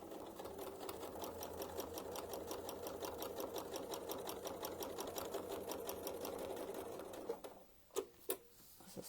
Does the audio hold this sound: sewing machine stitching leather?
yes